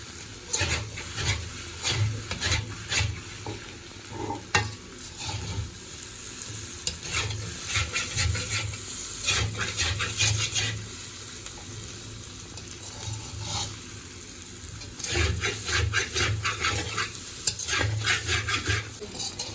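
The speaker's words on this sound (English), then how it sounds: "So just keep turning it over and over until all the noodles is well coated with the egg." Mamak-style mee goreng noodles with egg are stir-fried in a hot pan, with a steady close sizzle under repeated clattering bursts of tossing and turning with a spatula throughout.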